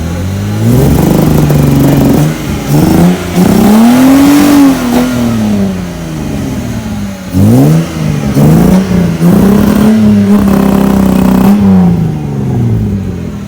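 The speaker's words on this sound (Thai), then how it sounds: "อาการเครื่องยนต์มีสะดุดนิด ๆ หน่อยๆนะครับ" A loud, close Volvo 244 DL engine revs up and down repeatedly, its tone rising and falling with slightly uneven, stumbling misfiring surges; no voices.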